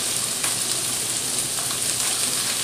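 Red onions sizzle and fry steadily in a hot pan alongside pasta vegetables, a continuous close crackling hiss with no voices.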